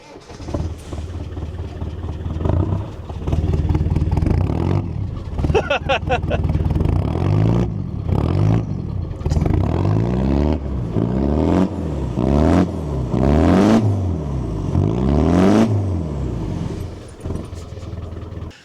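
A Land Rover Defender's large engine cranks and fires up on Dartmoor, then revs repeatedly in rising and falling bursts, loud and close, before settling back toward idle.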